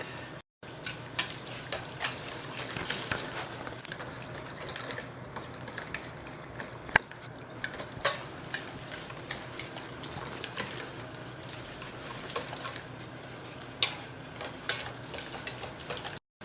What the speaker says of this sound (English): So we use a whisk to mix it together just so it fully incorporates all the spices.